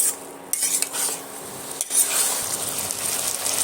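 A spoon scrapes and stirs cauliflower, potato and rohu fish curry sautéing in a pan, with soft repeated clinks over a faint steady sizzle, close and alone.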